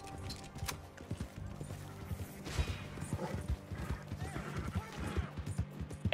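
A horse gallops in Red Dead Redemption 2, its hooves making a quick, rhythmic clip-clop, with occasional snorts under game sounds and someone talking.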